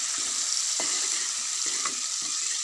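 Dry chilies fry in spiced oil and are stirred in a pan for an Assamese pigeon curry, making a steady hiss with a few soft scrapes, close and with no talking.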